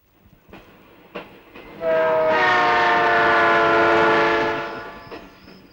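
A train rumbles past close by, its sustained horn-like tones swelling loud for a few seconds before fading, preceded by a few sharp clanks.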